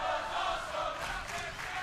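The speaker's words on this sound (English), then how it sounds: "Crowd showing their appreciation." Wrestling crowd at a TNA X Division match cheering and roaring in an arena, a steady, dense wash of voices that stays loud throughout.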